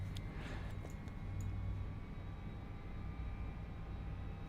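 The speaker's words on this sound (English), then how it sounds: "I hope that airplane isn't waiting for us to get out of the way" A steady, moderately distant jet engine drone from an airliner taxiing on an airport in Microsoft Flight Simulator 2024, continuous hum with a few faint clicks at the start.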